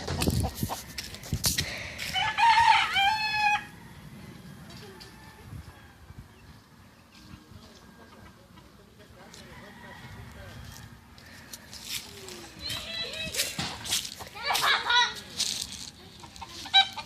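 Chickens cluck and a rooster lets out crowing calls in an outdoor setting, with bursts of loud squawking near the start and later, while people talk and other farmyard noises continue throughout.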